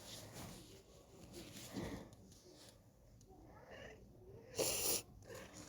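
A cat makes soft breathy snorts and faint murmurs close by inside a wooden house, with a brief louder rustle near the end, over a quiet room.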